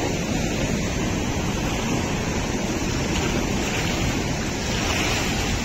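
Water churns and splashes at a dam in a steady, loud, unbroken rush, with wind buffeting the microphone throughout.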